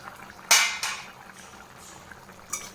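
A metal lid lifts off a cooking pot of garlic chicken gravy with a sharp clank, a second lighter clatter just after, then a quiet simmering bed and one more metallic tap near the end.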